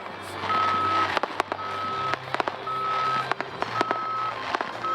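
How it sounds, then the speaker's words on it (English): Reversing beeps from a fire truck at a 4th of July fireworks show in St George, Utah, a steady repeating series of loud electronic tones over engine rumble, with sharp pops and clicks scattered through. "Fire truck."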